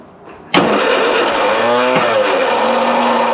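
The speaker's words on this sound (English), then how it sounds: "That starter motor really isn't helping in my situation." Classic Mini van engine cranking on its starter motor after years off the road: a sudden loud onset of whirring, laboring cranking that drones on steadily, close up, with no talking.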